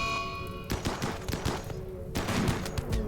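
Gunfire in the video game RimWorld: a rapid, crackling series of shots, some clustered into quick bursts, with brief gaps between volleys at moderate loudness.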